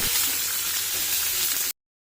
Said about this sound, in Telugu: ఆకు మాడిపోకుండా కలుపుకుంటూ వేయించుకోండి.